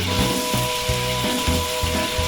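Vegetables frying in hot oil for a large 10 kg rice veg biryani, a steady close sizzle with periodic stirring scrapes and clatter in a rhythmic pattern.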